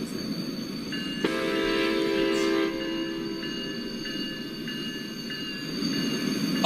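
A Metro train sounds its horn loudly, with a sustained tonal blast over rumbling rail noise and wheel sounds, heard alone without talk.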